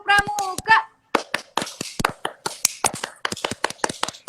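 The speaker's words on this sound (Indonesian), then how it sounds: "Sekali lagi, tepuk pramuka." A group repeating the Indonesian scout clap rhythm (tepuk pramuka), a short burst of voices followed by a brief pause and then crisp synchronized hand claps in a rhythmic pattern, close and loud.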